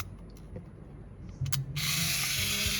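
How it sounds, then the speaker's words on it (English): The shutter of a Seagull SC-888 film camera opens with a few faint, sharp mechanical clicks, then a louder ratcheting rasp that runs steadily to the end. The sound is close and quiet, with no talking. "Shutter opens."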